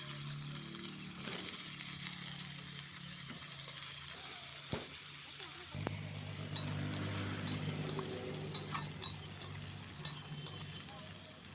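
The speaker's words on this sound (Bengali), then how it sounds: "ওই তেলেই আমি ভেজে নেব কেটে রাখা মিষ্টি আলু এবং নর্মাল যে ব্যবহার করি আমরা যে আলু" Cut sweet potato and ordinary potato frying in oil in a wok, a steady close sizzle broken by occasional stirring clinks and scrapes, with the bubbling growing busier partway through.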